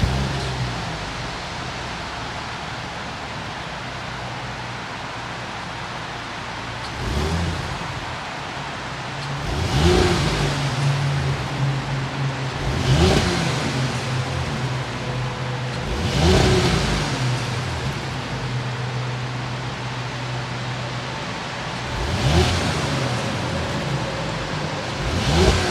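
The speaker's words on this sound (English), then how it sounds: "This is a V6. Let's start it up and hear that exhaust note." A turbocharged V6 in a 2022 Audi A7 Premium Plus fastback runs close by, its exhaust note rising in several short revving bursts over a steady idle rumble.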